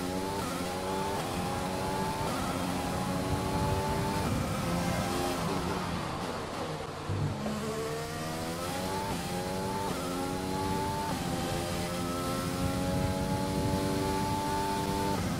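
A Formula One race car engine in the F1 2020 video game during practice at Abu Dhabi howls continuously, rising and falling through gear changes with steady high revs, loud and alone with no talk.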